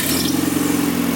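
A turbocharged B20 VTEC engine swapped into a Honda Del Sol runs steadily right after its first start, giving a close, continuous mid-pitched engine drone with a rough, throbbing texture and no voices.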